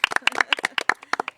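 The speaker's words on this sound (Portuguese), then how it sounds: "Palmas" A small audience at a Brazilian interview claps in quick, sharp, uneven hits for a little over a second. The claps are close and crisp, with no talking over them.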